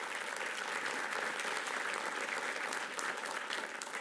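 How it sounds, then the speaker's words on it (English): Sustained applause from a crowd, dense and even clapping at steady loudness for the whole stretch, with no voices standing out. "We should give them another round of applause"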